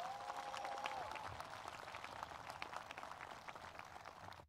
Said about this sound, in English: You have to give them a round of applause.